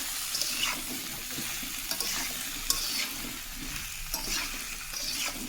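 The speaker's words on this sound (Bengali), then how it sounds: "তো এবারে ভালো করে সব ইনগ্রেডিয়েন্টগুলো দিয়ে এবারে কষাবো।" Raw pumpkin and mixed vegetables with spices being stirred and fried in a pan for a vegetarian curry, a steady close sizzle with repeated scraping stirs of a spatula, no talk.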